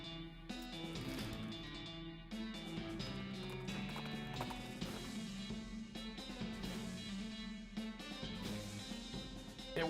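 Horse hooves clip-clop in a steady, repeated rhythm in West of Loathing, mixed with a tonal musical background and no talking.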